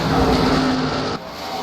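Loud roar of late model stock cars racing past at Five Flags Speedway, a dense wash of motor noise that drops off sharply partway through.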